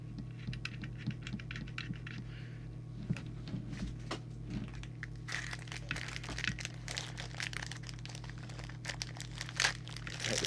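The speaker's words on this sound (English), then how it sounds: "Take the cellophane off the mic." Cellophane wrapping is pulled off the microphone of a Midland 278 mobile CB radio, giving close, crisp crinkling and sharp clicks in uneven bursts over a low steady hum.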